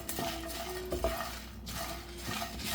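A spoon stirs a mixture with asafoetida powder in a pan while making a ladies finger and peanut stir fry, giving a few scraping knocks against the metal over a soft steady background hiss.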